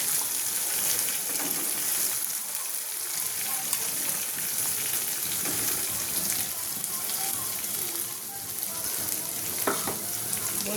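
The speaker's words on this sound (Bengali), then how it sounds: "দেখো আমার মশলা কষানো হয়ে যাচ্ছে" A spice paste sizzling and frying in a pan for a Bengali curd fish curry, a steady loud crackle with occasional stirring scrapes, under faint background noise.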